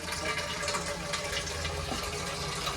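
Water pours steadily with a constant rushing, splashing sound that fills the short clip without pause.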